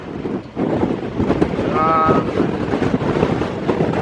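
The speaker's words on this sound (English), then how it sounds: "As you can see and feel, it's a bit blustery today" Wind buffets the microphone on a blustery hillside walk, a loud continuous rumbling roar with gusty swells and a few faint voices underneath.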